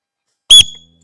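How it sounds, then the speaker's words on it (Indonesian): A single short, shrill blast of a whistle, loud and close, during a kicking drill, with a brief fading tail and silence before and after. "Kalau peluit mulai ditiup baru."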